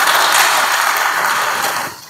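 Dense, steady applause from a congregation inside a Catholic parish church, loud and continuous for about two seconds before tapering off at the end, with no talk over it.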